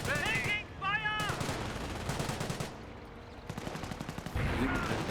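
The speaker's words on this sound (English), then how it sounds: "We have a lot of incoming fire." Gunfire in a Company of Heroes battle between Wehrmacht and Allied troops, bursts of rapid shots and machine-gun rattle, with a voice talking over the bursts.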